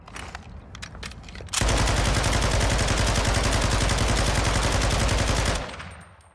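Loud, sustained automatic gunfire in the Warzone firing range of the video game, a dense unbroken burst of about four seconds following quieter preceding shots, then cutting off abruptly.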